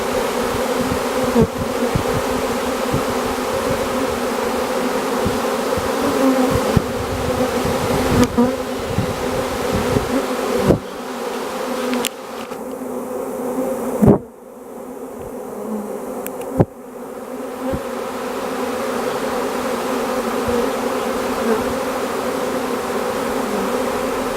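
A honey bee swarm arrives at a nuc hive, a dense, steady buzzing hum of many bees close by for the whole stretch, broken by a few sharp knocks.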